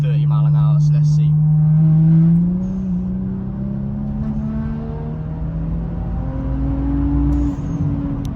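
A tuned car accelerates hard in third gear from about 30 mph, its engine note climbing steadily in pitch as it pulls. The sound is loud and continuous, with road and wind roar beneath it.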